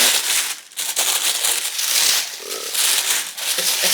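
Stiff wrapping paper crinkles and rustles continuously at close range while a pair of white sneakers is unpacked from a box, with a few soft knocks under the steady crackle.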